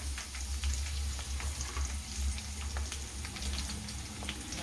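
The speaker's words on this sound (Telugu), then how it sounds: "ఆనియన్స్ అయితే బాగా ఫ్రై అయిపోయినాయండి" A medium onion fries in oil in a pan for vegetable sambar, making a continuous crackling sizzle over a low steady hum.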